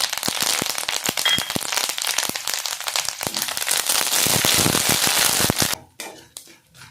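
Curry leaves and peanuts crackle and pop as they roast in a pan, a dense burst of sharp snaps and sputters that is loud and close, then thins to a few scattered pops at the end.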